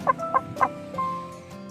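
A chicken clucks several times in quick bursts, close by, followed by a drawn-out softer call.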